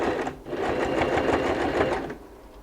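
A sewing machine stitching a bag made from recycled jeans, a fast continuous whirring run of about two seconds, close up, then stopping.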